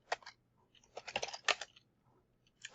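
Quick bursts of keystrokes on a computer keyboard as an address is typed in, a few uneven clusters of close, quiet clicks separated by short pauses.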